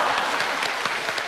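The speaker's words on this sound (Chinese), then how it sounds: "那从后台听一下，掌声" Studio audience at a televised Chinese singing competition applauds steadily, a dense, continuous wash of clapping at close-to-moderate distance with no talk over it.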